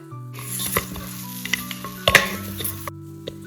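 Dates dry-roasting in a hot pan, with soft sizzling and several scraping stir strokes and light clinks of a utensil against the pan, close up with no talk.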